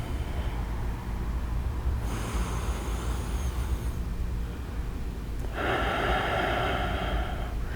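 Slow, deep breaths drawn in and pushed out through the nose during a seated yoga twist, loud and close, with long airy inhales and exhales and no talking.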